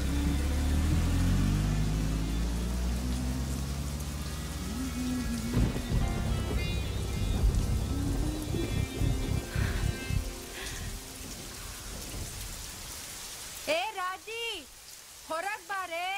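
Heavy rain pours steadily with rolling thunder rumbling low through the downpour at night. Near the end the rain thins and a voice speaks over it.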